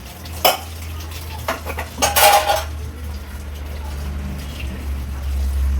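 Dishes and cups clink and clatter as they are washed and handled in a home kitchen, with a few sharp knocks standing out over a steady background hum.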